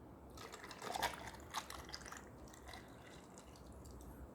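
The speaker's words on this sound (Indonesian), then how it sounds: "sekarang saya tuang airnya dulu" Water poured out during a DHT22 temperature and humidity sensor test, a soft, continuous trickling and splashing with a brief louder swell near the start, quiet and alone without talk.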